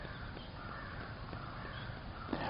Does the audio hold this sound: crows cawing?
yes